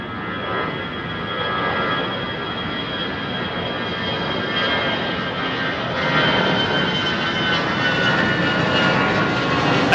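An Airbus A321 freighter at London Heathrow makes a continuous loud jet engine roar with a whining tonal edge, steady and then growing slightly louder in the second half.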